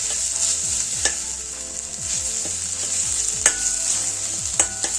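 Red pumpkin pieces being stirred and sautéed in a pan for a sweet pumpkin kheer: a loud continuous sizzle with repeated scraping strokes of a spoon at an even rhythm, with no voices.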